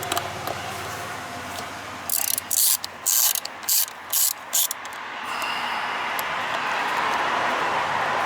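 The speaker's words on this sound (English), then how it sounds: "Now I'm just going to get back to my T35 Torx bit and loosen these screws up." T35 Torx bit on a ratchet loosening throttle body screws on an Opel/Vauxhall Corsa C 1.2, heard as about five short, sharp ratcheting bursts in quick succession, close up, followed by a steadier background hiss.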